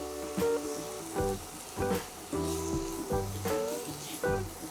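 Mushrooms frying in a pan as their water cooks out, giving a steady moderate sizzle broken by recurring short scraping, tonal bursts.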